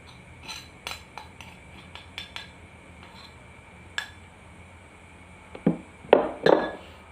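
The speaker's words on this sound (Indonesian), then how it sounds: "Kemudian kita aduk hingga merata." A spoon stirs milk mixed with water in a glass, giving scattered light clinks at first and then a few louder, closer taps against the glass near the end.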